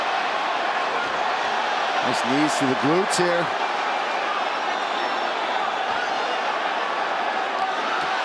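A UFC arena crowd at a Moreno versus Figueiredo bout, a continuous roar of cheering and noise filling the background while commentators talk over it.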